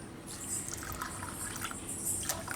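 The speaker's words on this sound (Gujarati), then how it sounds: "આમાં પાણી નાખી દેવું" Water poured into a cooking pot of peas and corn to be boiled, a soft steady trickling and splashing that runs through the short moment at moderate level, with no talk.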